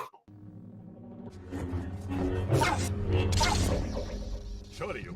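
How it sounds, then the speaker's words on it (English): A dog barking a few times at moderate distance, mixed with whooshing and mechanical noises in the background. "Wait, are those dog barking sounds?"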